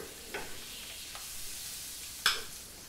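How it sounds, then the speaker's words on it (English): Pheasant eggs fry in a little butter or oil in a pan, giving a faint, steady sizzle with a few soft clicks and one sharper crackle near the end, heard alone without talk. "you can either fry the pheasant eggs in a little bit of butter, or you can use some oil"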